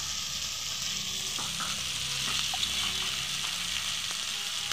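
Chopped tomatoes fry in a pan, giving a steady hissing sizzle with a few faint stirring clicks, close and alone.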